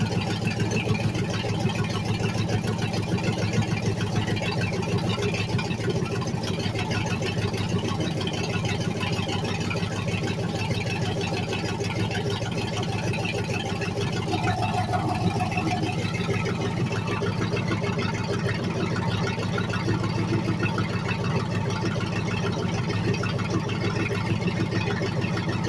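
A race car engine idles steadily, a loud continuous low rumble with a constant even tone throughout, close to the listener.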